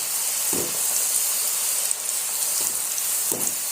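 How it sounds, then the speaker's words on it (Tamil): Homemade French fries deep-fry in hot oil, giving a steady, loud hissing sizzle throughout, with a few soft bubbling thumps as pieces are stirred. "கொஞ்சம் கொஞ்சமாக போட்டு பொரிச்சு எடுத்துக்கணும்."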